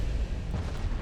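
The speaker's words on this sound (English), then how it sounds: "An ammo detonation? On me? With a 14?" A warship's ammunition detonating in the naval combat game Ultimate Admiral: Dreadnoughts: a brief, heavy explosive boom with deep rumbling low end and a crackling burst near the close, loud and with no talk.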